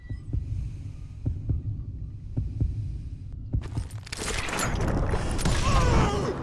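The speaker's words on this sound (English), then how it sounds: "You can hear your heartbeat." During a gunfight duel in the video game Call of Juarez Gunslinger, a deep heartbeat thumps steadily, several low beats in rhythm, before a sudden loud burst of noise takes over.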